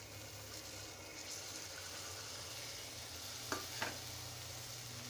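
Green moong beans stir-fried in oil in a pan, giving a steady low sizzle throughout with a couple of brief scraping stirs near the end; no one speaks.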